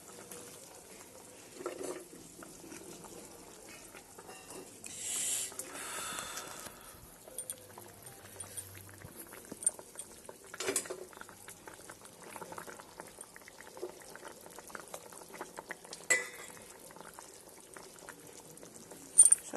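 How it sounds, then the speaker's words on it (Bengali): Fish curry broth bubbles in a pot as pieces of fish are dropped in, a faint, steady simmer broken by a few soft splashes and clatters over nearly twenty seconds. "মাছের ঝোলটা ফুটে গেছে, এখন আমি এখানে এই মাছগুলো ছেড়ে দেব।"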